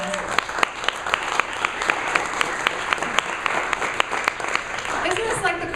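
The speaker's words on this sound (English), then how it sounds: "Would you please give them a round of applause?" Audience applause fills a venue, dense clapping sustained throughout at steady loudness with a few sharper claps standing out.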